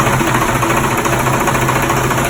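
A 6BT Cummins diesel engine with low compression and unbled injectors runs steadily, a loud, dense, continuous mechanical drone with rough rhythmic knocking throughout, no voices over it.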